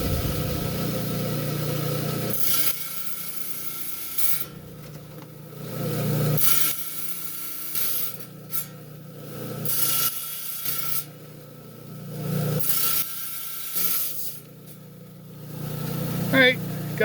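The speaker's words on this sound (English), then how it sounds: "we're down here on my high-tech 10-inch trim saw here. We're going to trim out our little rectangle here on this piece of slab." A 10-inch trim saw cuts through a slab of silicified sandstone in repeated grinding, rasping passes over a steady motor hum, with someone talking at times.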